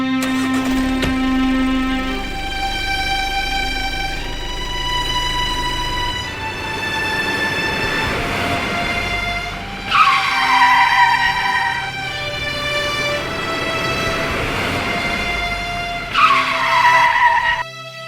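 A car drives off with skidding tires: sustained squealing tones over engine noise, with two sharper screeches bursting out near the end, loud and close, with no talking.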